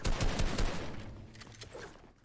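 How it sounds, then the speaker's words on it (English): Rapid gunfire in a competitive shooter video game, a burst of several sharp shots up front that trails off into softer distant reports over a couple of seconds. "And Kleppy keeps shooting."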